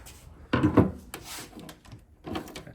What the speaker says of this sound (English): We have to press on this with a flat screwdriver, and then that way you can pull the electrical wire out.